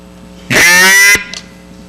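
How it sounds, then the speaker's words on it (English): A DR85 double reed duck call blown by mouth gives one loud, close, buzzy quack of about a second, standing alone against a quiet room. "So we're going to say the word hat to get a quack, and it's going to sound like this."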